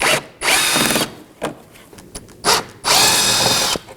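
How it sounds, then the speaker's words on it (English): A power tool whirs in short bursts, removing T15 screws from the fender liner of a 2018-2024 Chevrolet Equinox, close and loud, with several spin-ups separated by brief pauses and clicks. "We have some T15 screws and we'll be removing those."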